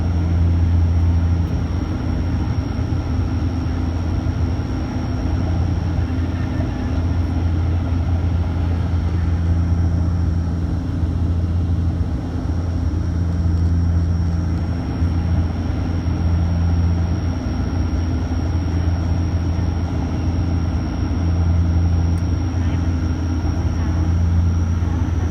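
A Bombardier Q400 turboprop airliner in a flight simulator game comes in to land, producing a steady, droning engine hum with low tonal rumble and a constant high whine, unbroken throughout.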